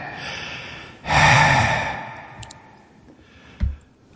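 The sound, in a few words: breathing sound from a played recording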